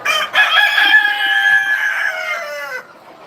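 A rooster crows once, loud and close, a drawn-out call of about two and a half seconds with a short clucking start and no other sounds around it.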